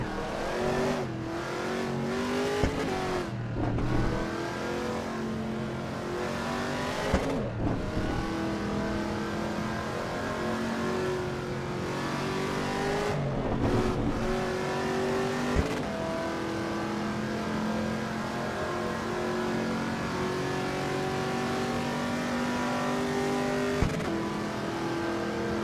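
A production car's engine in a racing video game revs and shifts through gears, rising and falling pitch sweeping repeatedly with brief drops at each shift, loud and continuous with no talking over it.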